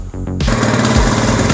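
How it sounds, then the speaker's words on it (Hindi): A motorcycle running without a battery sputters through a few quick firing pulses before catching and settling into a loud, rapid, rattling idle close by. "अभी हमने मोटर बाइक को स्टार्ट कर लिया"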